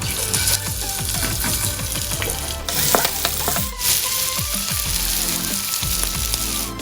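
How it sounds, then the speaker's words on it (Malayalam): Prawns sizzle and crackle vigorously in hot oil in a pan, close and loud, with frequent bursts of popping and spattering and occasional stirring knocks throughout. "കുറച്ച് എണ്ണ ഒഴിച്ച് നമ്മുടെ പ്രോൺസിനെ ഒന്ന് ഫ്രൈ ചെയ്തെടുക്കാം."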